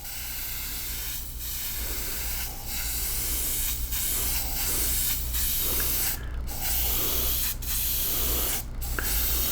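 An airbrush sprays a thin finish coat onto a woodturned vase, giving a loud continuous hiss broken by several short pauses as the trigger is released and pressed again.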